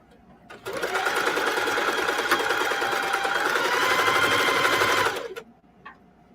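A machine embroidery stitch-out on denim jeans runs steadily for about five seconds, a fast, even mechanical whir with rapid needle rhythm, close and loud, starting and stopping cleanly with no talk over it.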